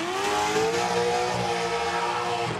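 Drift cars at the FIA Motorsport Games Drifting Cup roar continuously on track, a steady loud engine drone with rising revs and tyre noise, heard from a distance.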